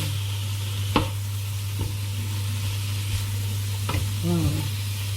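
Rice noodles, pork and vegetables being stir fried in a pan, a steady loud sizzle with a low hum beneath and a few sharp clicks of utensils stirring and scraping.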